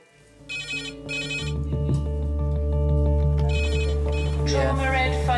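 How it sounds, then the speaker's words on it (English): Trauma red phone in a hospital rings with a repeated electronic tone, two bursts then another, loud and close over a steady low hum and background bustle. "Trauma red phone 6 minutes."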